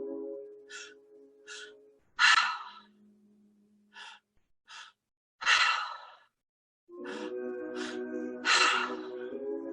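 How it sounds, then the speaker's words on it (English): Deep open-mouthed breathwork gives a series of loud, breathy inhales and exhales. Short sharp gasps alternate with longer sighing releases, heard close up, with some voiced tone mixed into a few of the breaths. "Inhale, inhale, exhale. Mouth is open."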